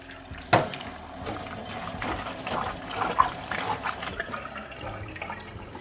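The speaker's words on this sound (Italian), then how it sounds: "Lo andiamo a passare sotto l'acqua corrente." Tap water runs and splashes unevenly, with a sharp knock near the start and shifting trickling sounds as cauliflower is rinsed under the stream.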